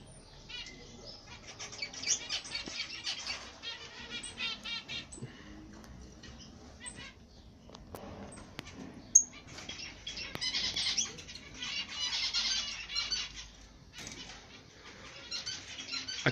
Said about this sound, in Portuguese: É um canário que está comigo há 3 anos.